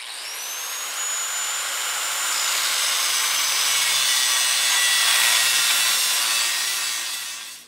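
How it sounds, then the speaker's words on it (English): A cutoff wheel grinds into an axle bearing ring on a 1987 Jeep XJ, giving a steady, high, hissing screech that holds for several seconds at close range with no talking, then tapers off. "what you do is you dig down with your cutoff wheel, taking care not to hit the machine surface"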